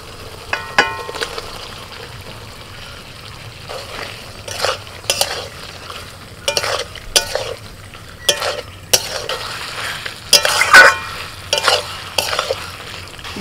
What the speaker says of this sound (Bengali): দু চার মিনিট মতো মশলার সাথে আলু আর পটলটাকে কষিয়ে নিয়ে